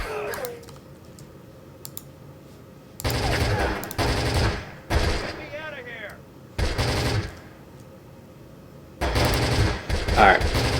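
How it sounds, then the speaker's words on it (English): MG42 machine gun fire in the Close Combat video game comes as several separate rattling bursts, sharp and fairly loud, with quieter ambience between them. "So when you have the volume on, even on low, you can hear those rounds going off."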